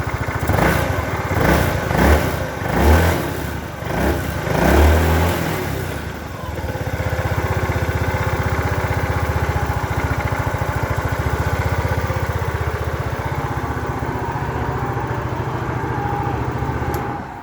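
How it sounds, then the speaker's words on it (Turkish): A Mondial Lavinia 125 scooter with its original exhaust starts up and settles into a steady, loud idle. A few uneven bursts come first, then a continuous even drone runs to the end with no talk. "Bakın orijinal egzoz sesi çok tatlı. Şöyle bir sesi var."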